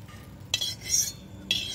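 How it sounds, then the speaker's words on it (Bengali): Fried brinjal being stirred in a pan with a sprinkle of chili powder and lifted out, giving a few sharp metallic scrapes and clinks of a spatula against the pan, close and fairly quiet, with no talking. "এবার দেখুন একটু লঙ্কার গুঁড়ো দিয়ে বেগুনটাকে নামিয়ে নিচ্ছি।"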